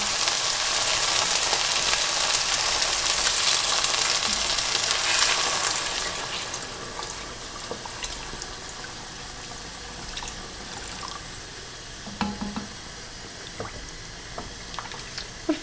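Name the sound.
water added to rice in a hot pot, sizzling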